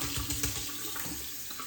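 Running water from a tap splashes steadily over a razor during a head shave, in a short, continuous, close-up rush.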